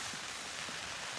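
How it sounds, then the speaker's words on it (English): Rain patters steadily on a tent on the Isle of Mull, a soft, even hiss of drops heard from inside the porch, quiet and unbroken with no talking. "Just sat in the porch of my tent as it's decided to rain again."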